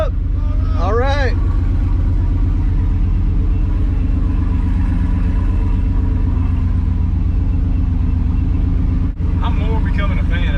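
Ford Lightning truck on a dyno with a steady, loud low engine drone running continuously, while people talk over it with a brief break in the noise near the end.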